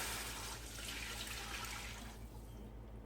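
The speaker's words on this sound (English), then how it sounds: "now we're going to be adding water. Ready? 4 cups going in." Four cups of water pour into a pot for kale soup in a close, continuous splashing rush that fades as the pour ends, with no talking.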